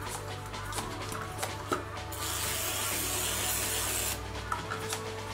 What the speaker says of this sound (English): This is just normal oil, guys, and you literally spray it.